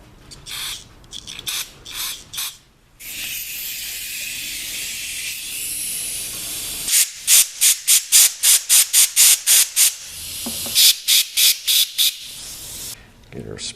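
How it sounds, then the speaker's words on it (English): Cleaner and compressed air are sprayed into a part from a 1972 Honda CB450 carburetor rebuild. Long hissing blasts come first, then a rapid train of short, sharp air bursts close up with no talk. "Just to shoot a little cleaner and compressed air in there"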